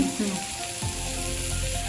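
A short burst of tempering sizzling in hot oil with a pinch of turmeric, a steady bright hiss close by that holds evenly for under two seconds.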